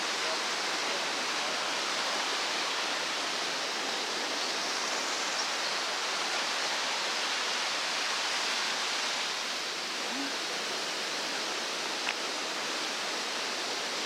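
Hazel Creek's flowing water rushes in a steady, broad wash of noise, constant and fairly close throughout with no breaks.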